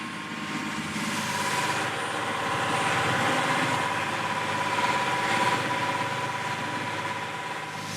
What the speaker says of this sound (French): Le bruit assourdissant du moteur casse les têtes.